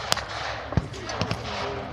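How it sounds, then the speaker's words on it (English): Scattered gunfire from a WW2 re-enactment battle at Military Odyssey 2025: a few sharp shots and pops over about two seconds, some closer and punchy, others distant, set against a steady outdoor crowd hum and murmur. "The gunfire is closing down."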